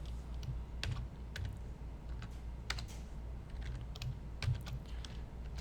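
Typing on a computer keyboard during a web design lesson, irregular close keystrokes tapping steadily throughout with a few sharper clicks.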